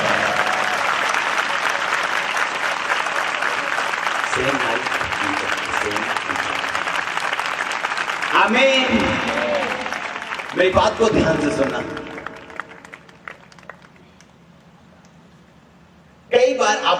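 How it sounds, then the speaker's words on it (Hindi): Church congregation clapping loudly and steadily for about eight seconds, then bursts of cheering and clapping that fade as a preacher speaks over a quieter room. "पवित्र आत्मा की ताली बजाओ सब जन"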